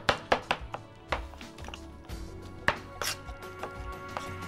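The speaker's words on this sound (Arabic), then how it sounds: "بعد تقطيع الباذنجان مثل ما شايفين" A knife chops peeled grilled eggplant on a cutting board in a kitchen, a handful of sharp close taps at an uneven pace, starting quick and then spacing out, fairly quiet overall.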